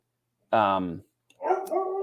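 A dog gives a single loud, close bark, then a whining yelp after a short pause, in an otherwise quiet indoor room.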